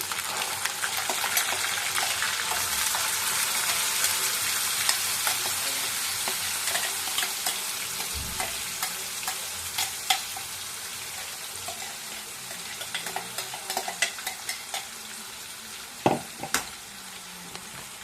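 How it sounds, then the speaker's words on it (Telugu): Onion paste and ginger-garlic paste fry in a pan for a fish curry. A steady hiss runs throughout, broken by scraping stirs and occasional knocks of the spoon against the pan, with no talking. "అల్లం వెల్లం పేస్ట్ ఉల్లిపాయ పేస్ట్ కొంచెం పచ్చివాసన మీద దాకా వేగాలి"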